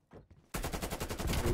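Rapid automatic gunfire from the video game Call of Duty Black Ops Cold War, a couple of brief quieter bursts followed by a loud, sustained stream of shots.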